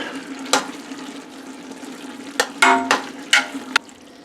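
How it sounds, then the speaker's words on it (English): A pot of Louisiana Creole-style jambalaya with cut-up pork chops being stirred, giving a low simmering hum with a few scraping, sloshing strokes of the spoon, close and moderately loud. "And then we will give this a stir."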